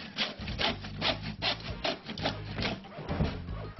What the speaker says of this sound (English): We start by cutting our piece of lattice to one side of the centre batten.